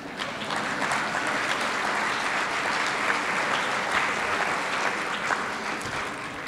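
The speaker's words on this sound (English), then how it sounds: "I know that the oaks appreciate that you are clapping for them, and I clap for them too." A large audience claps steadily and densely throughout at a garden-themed celebration talk, a continuous wash of applause with no voices standing out.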